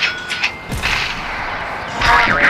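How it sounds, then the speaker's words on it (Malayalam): Bomb explosions go off in the video game Dude Theft Wars, a loud booming blast followed by a rumbling roar and another surge of crackling noise, dense and close. "ഇവിടെ ബോംബ് എക്സ്പ്ലോഷൻ"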